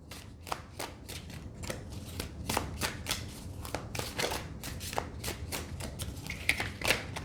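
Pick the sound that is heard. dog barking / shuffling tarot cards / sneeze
shuffling tarot cards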